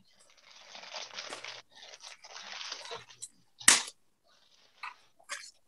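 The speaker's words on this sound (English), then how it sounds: "unwrap that layer and see what's underneath there" Wrapping paper, apparently Sunday newspaper comics, is torn and crinkled off a wrapped package during a children's sermon, giving close rustling and crumpling bursts in several bouts, with one sharp louder rip near the end.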